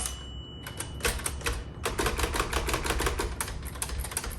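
A 1961 Underwood Five manual typewriter clacks through a fast run of sharp key and backspace strikes. The strikes are loud, close and steady, with a brief pause early on before the rapid tapping resumes.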